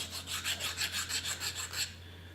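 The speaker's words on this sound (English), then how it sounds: "I like to file with an angle slightly this way, so it'll slip down in there." A hand file rasps across an edge in about ten quick, regular back-and-forth strokes, close and bright, ending in a brief quiet tail.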